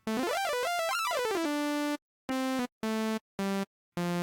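A basic synthesizer tone like a cheap 80s computer game sound: a bright buzzy square-like tone first glides up and down quickly, then plays four short separate notes with silent gaps, clean and alone.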